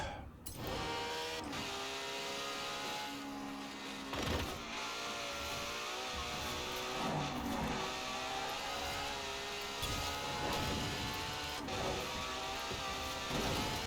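Car engine accelerating in a Forza Horizon racing game, a loud, sustained whining roar that climbs and holds steadily throughout.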